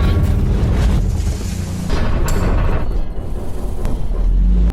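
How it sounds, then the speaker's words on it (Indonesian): A tank struck by a direct shell hit in wartime combat against Nazi forces, a loud continuous booming explosion with heavy low rumble sustained throughout, close and dense, with no speech. "Boom! Tank Ivuskin terkena tembakan telak, rusak parah."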